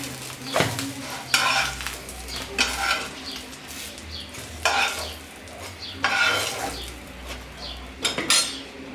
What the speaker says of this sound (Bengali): হয়ে গেছে আমাদের বেগুন বাজা এবার আমি তুলে ফেলবো